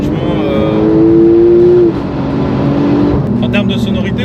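A Porsche GT Street R with 800 hp revs and accelerates, loud engine tones rising then shifting through a gear change, heard from inside the car with people talking over it.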